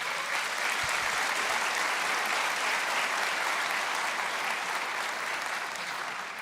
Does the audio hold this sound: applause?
yes